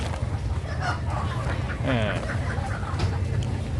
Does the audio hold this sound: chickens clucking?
yes